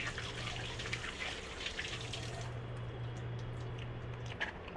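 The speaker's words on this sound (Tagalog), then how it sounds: "Hugas mo lang dito sa gripo." Water runs steadily from a tap, a soft continuous splashing with a faint hum in the background, no voices.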